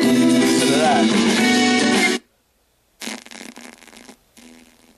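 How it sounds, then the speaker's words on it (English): Cheap Walmart speaker amplifiers spit out a loud, raspy, distorted buzz that cuts off abruptly after the power is killed, then sputter back in weaker crackling bursts with brief gaps. "the amps make a little bit of noise after you kill the power"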